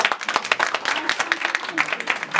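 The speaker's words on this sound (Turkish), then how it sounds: "Alkış veriyor muyuz?" Audience at an environmental week festival in Yalova gives fairly loud, continuous applause with individual claps distinct and rhythmic and no voices.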